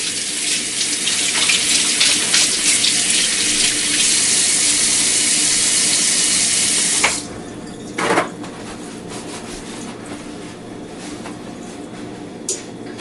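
Hands are washed under a running kitchen tap, a loud steady rush of water for several seconds that cuts off abruptly, followed by quieter drips and handling sounds.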